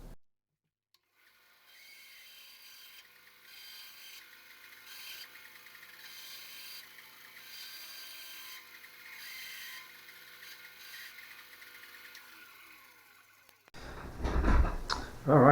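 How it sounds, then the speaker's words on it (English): A wooden ring is hand sanded in long, steady rasping strokes, a close continuous rubbing that runs for most of the stretch before a louder burst of handling at the end. "Let's do some hand sanding."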